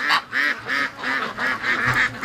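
Ducks calling in the rain on a free-range farm, a rhythmic run of about eight nasal quacks and honks in quick succession, moderately close and fairly loud.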